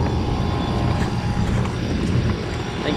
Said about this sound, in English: you can hear the compressor really well back here